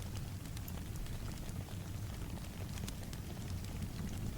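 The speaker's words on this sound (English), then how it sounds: "as we watch the rain fall together" Steady rain falls in a gentle, continuous wash, with soft scattered drop ticks over a low rumble, close and even throughout with no voices.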